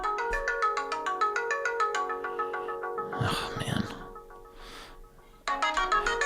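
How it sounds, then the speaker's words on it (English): A mobile phone ringtone plays a repeating melodic pattern close by, pauses briefly while a man mutters, then starts ringing again. "Okay, it's my phone, sorry, hold on a second."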